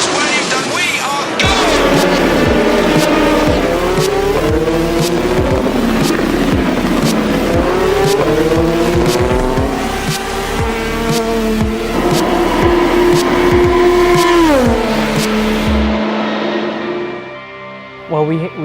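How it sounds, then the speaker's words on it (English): Race cars roaring off at the start of the 2018 Le Mans 24 Hours, a loud dense pack of engines revving and shifting through gears for most of the clip, with commentary running underneath before the noise thins out at the end. "The Le Mans 24 hours for 2018 is about to get underway. The flag is waved"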